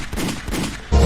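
Rapid gunfire from a glitched gun wedged inside a character's body in Call of Duty MW2, a dense burst of loud close shots with a heavier blast near the end.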